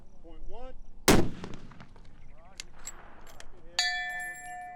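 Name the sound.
rifle shots from military M99 Barrett at long range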